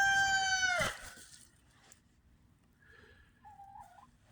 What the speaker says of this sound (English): the rooster that stays with them.